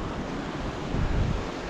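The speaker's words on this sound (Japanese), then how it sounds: "滝だ" A mountain waterfall high in the Peruvian Andes near Huaraz, on the trail to Lake 69 above 4600 m, gives a steady broadband rush mixed with wind buffeting the microphone.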